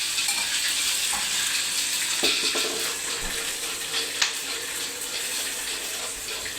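Cumin, mustard seeds and fenugreek tempering in hot oil for coconut chutney, giving a steady close sizzle and crackle with scattered sharp pops throughout.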